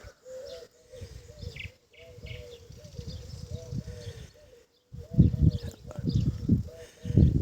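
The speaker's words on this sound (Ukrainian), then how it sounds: "а пташки, соловейка так тьохкає в ліску" A nightingale sings in a leafy grove, repeating fairly close, clear trilling and chirping phrases that come in short bursts with brief pauses between them.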